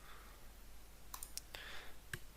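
A computer mouse clicks during work in modelling software, giving a few sharp, quiet, close clicks with two in quick succession, set against a faint background hiss.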